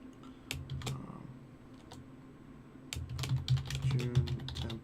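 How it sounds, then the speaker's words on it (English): Typing on a computer keyboard while saving a June template file, with bursts of quick key clicks over a steady low room hum, louder and denser keystrokes near the end. "I'm going to type this as"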